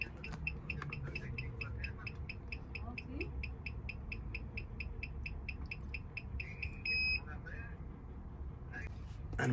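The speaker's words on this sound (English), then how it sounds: "It's making the beeping noise." Rapid electronic beeps repeat at a steady rhythm from a BMW AK90 key programmer as it reads a key chip, sitting close and fairly clear over low background rumble and some handling noise.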